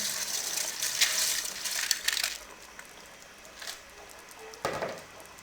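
Soaked steamed rice is tipped into a pot for hara pulao, giving a few hissing, rattling bursts of grains hitting the pan, separated by quieter pauses.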